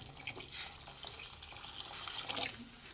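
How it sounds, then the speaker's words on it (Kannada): Water poured from a tap or vessel into a pot of simmering rasam, roughly three-quarters of a litre, a steady quiet splashing and trickling stream heard alone, with no talk. "ಈಗ ನೀರು ಹಾಕ್ತಾ ಇದ್ದೀನಿ"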